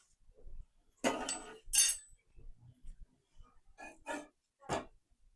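Cooked spongy dal-rice dosa lifted off the pan onto a plate, a few sharp metallic scrapes and clinks of a utensil, close and isolated, with brief quiet gaps between.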